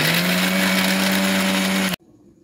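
A mixer grinder whirs loudly and steadily for about two seconds while grinding a spice paste, then cuts off abruptly, leaving near silence.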